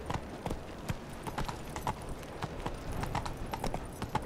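Hoofbeats of a horse in The Witcher 3, rapid steady clip-clopping over several seconds against a constant background wash, mid-distance and not loud.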